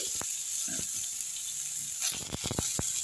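Ginger and garlic sauté in a pan for a thuthuvalai spinach chicken chops dish, giving a soft steady sizzle with a few sharp stirring scrapes and taps, no voices.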